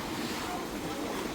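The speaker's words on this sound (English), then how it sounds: "it's windy." Strong wind buffeting across the open deck of the Sapphire Princess cruise ship on the Mediterranean, a loud continuous roaring rush of air close to the microphone.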